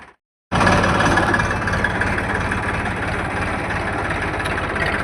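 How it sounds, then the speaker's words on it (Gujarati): A heavy tractor engine starts suddenly after a brief silence and then runs loud and steady, with a low chugging rumble throughout, as the tractor is driven up a slope in reverse. "અત્યારે જો અમે રિવેસ ટ્રેક્ટર ચડાવીએ છીએ"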